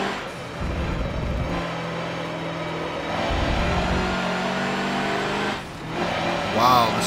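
A pickup truck with a manual gearbox in the racing game Forza Motorsport 7 drones steadily, its engine tone rising and holding through gear changes, fairly loud and continuous with a brief dip near the end.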